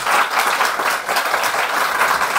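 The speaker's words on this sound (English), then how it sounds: "let's give another well-deserved round of applause" Audience applause at a book talk, a full, close round of many hands clapping with a slightly pulsing rhythm that runs for about two and a half seconds, with no voices on top.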